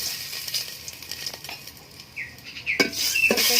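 Crushed garam masala and bay leaves stirred in hot oil, with a spoon scraping and clinking against the pot over a light sizzle, the scraping growing louder and busier toward the end, heard up close with no talking.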